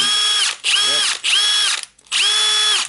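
Milwaukee M18 FIW2F12 compact cordless impact wrench, freshly repaired, runs in four loud whining bursts with brief gaps between, a steady motor tone rising and settling in each burst, close by with no talk.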